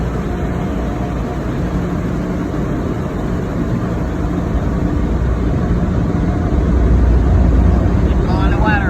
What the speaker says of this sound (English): Keep blowing the water off now